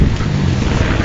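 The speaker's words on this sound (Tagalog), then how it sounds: "Grabe, ang lakas ng hangin." Strong wind buffets the microphone outdoors on a cold day along a road, a steady loud broadband rush with low rumble filling the whole moment.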